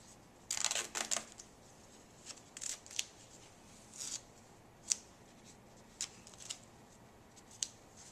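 Medical tape pulled and torn to fix IV tubing looped on a patient's limb: short crackling rips and rustles, close and faint, coming in scattered bursts against a quiet background.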